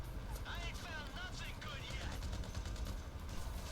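Rapid bursts of gunfire from a GTA V story-mode shootout crackle continuously over a busy game soundscape, with someone talking over the action.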